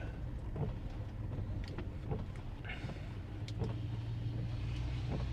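Car engine idling steadily in a Polish winter on summer tires, already warmed up from driving; a continuous low hum with faint rumbling, close and even throughout.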